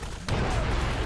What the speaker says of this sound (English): use a grenade